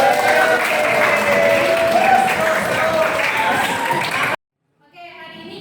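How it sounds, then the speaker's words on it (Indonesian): A classroom of students applauds with dense, loud clapping for about four seconds, then it cuts off abruptly and a quieter voice briefly follows. "Oke, tepuk tangan."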